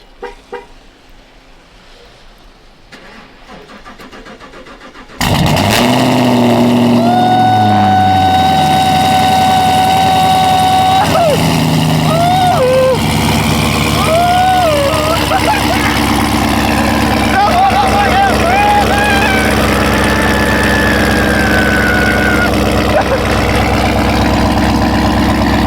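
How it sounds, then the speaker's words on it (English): Engine of an FBO-tuned Camaro running in a severe snowstorm, heard from inside the cabin as a loud, steady drone with rising and falling tones, starting abruptly after a quiet opening, with people talking over it. "We in the car right now"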